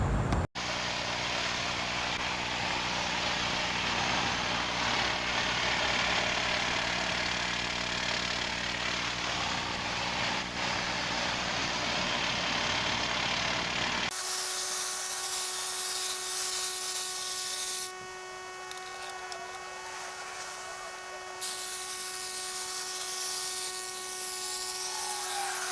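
An Earthwise cordless pole hedge trimmer works along the top of a tall hedge, its buzzing motor droning steadily and loudly for the whole stretch, with the pitch shifting partway through.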